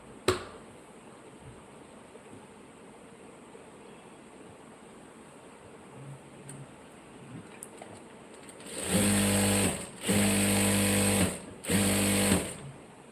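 After a long quiet stretch, a sewing machine stitching piping on a blouse runs in three short, loud bursts separated by brief pauses.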